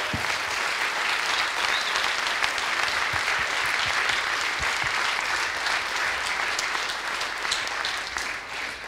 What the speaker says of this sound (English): Everybody, please, let's give a round of applause for our contributors.